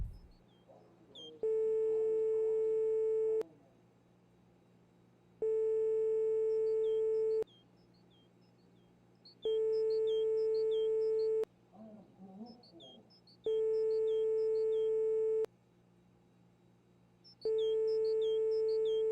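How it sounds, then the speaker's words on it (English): A telephone line tone in a winter survival video game pulses in steady two-second on, two-second off cycles, clean and sustained, with faint chatter and clicks in the gaps. "You could spend like 2 in-game days just listening to dial tone."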